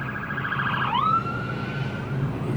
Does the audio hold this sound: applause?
no